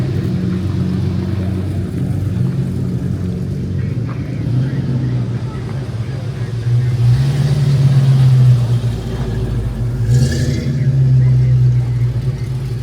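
A Ford T-top coupe's engine rumbles and revs outdoors at a car show, a steady low drone swelling louder midway, with a crowd murmuring around it.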